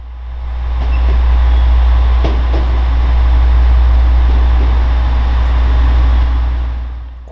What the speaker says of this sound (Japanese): そして電車が入ってきます。